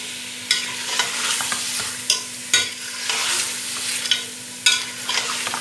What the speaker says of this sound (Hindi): अच्छी तरह भुनाई कर देंगे इसको।